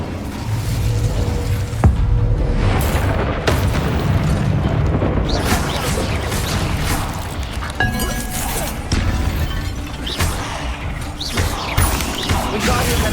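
Incendio fire spell cast in Hogwarts Legacy, a dense roaring blast with heavy booming low rumble that stays loud and continuous over a busy mix of crashes and game effects.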